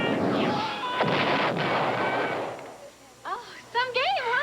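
Atari Star Wars arcade-style video game blasting laser cannons and explosions in a dense, loud rush of crashing bursts, giving way to bright warbling electronic laser zaps toward the end.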